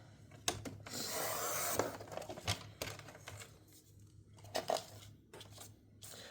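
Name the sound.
cutting a white paper overlay for a scrapbook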